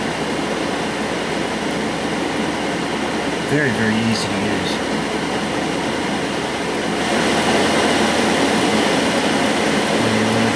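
JP Heaters 2kW diesel air heater running inside a bus, a loud steady fan roar that rises in pitch and grows louder partway through as the fan speeds up, with someone talking over it.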